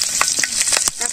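Ripe chilies frying with cumin in a pan, a loud close hiss of hot oil with quick spattering crackles throughout.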